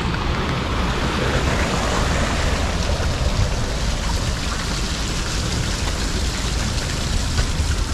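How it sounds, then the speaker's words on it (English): Water from a campus fountain splashes in a steady, full rushing wash close by, unbroken and even in loudness, with no talking. "You can sit up here and enjoy the sound of the water."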